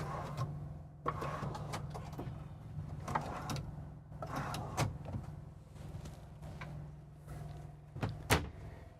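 Slide-out drawers in a Winnebago Era 70A 4X4 motorhome are pulled open and pushed shut several times, giving sliding rumbles and sharp clunks and clacks over a low steady hum.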